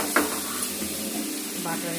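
Whole garam masala sizzles and fries in butter in a pan for a chicken stew, a steady hiss of frying broken by a couple of stirring scrapes of a utensil against the pan.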